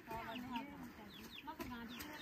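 Several short, nasal calls from a small flock of ducks on a mountain farm come in quick overlapping bursts, close by and moderately quiet.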